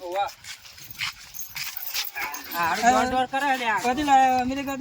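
A newly brought dog whines and yips in high, wavering cries that rise and fall, mixed with people talking close by.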